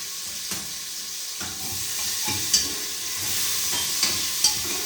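Cumin seeds and asafoetida tempering in hot oil for a simple potato and pea dish, giving a steady close sizzle with a few brief stirring clicks and scrapes, no voices.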